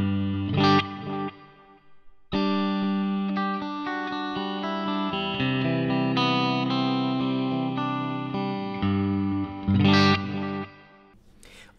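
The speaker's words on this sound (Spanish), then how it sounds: "El modo Tube Echo es una emulación del Maestro EP1 de 1963." Electric guitar played through a Line 6 DL4 pedal in Tube Echo mode, which emulates a 1963 Maestro EP-1, with added mix, several echo repeats and a little reverb. Sustained chords ring out loud and alone, trailing into fading repeats.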